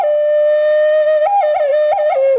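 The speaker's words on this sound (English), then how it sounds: "This is a double flute here." A breathy double flute plays a sustained note, then steps through a short, ornamented melodic phrase, clear and close with no talking.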